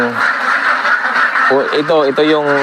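Ducks on a duck farm, with several loud, close, nasal quacks in quick bursts over a busy background of many birds calling, while a person talks at the same time.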